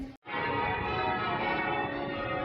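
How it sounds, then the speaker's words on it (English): After a brief gap, Derby Cathedral's bells peal continuously over the city centre, rich sustained ringing tones layered together at an even, fairly distant level. "And all you can hear is the church bells."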